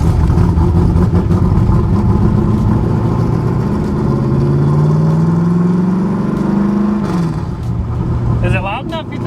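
The engine of a 1968 Chevrolet Corvette with a five-speed transmission rumbles loudly and close by, and its pitch rises and falls as it revs before it settles to idle, with voices talking over it.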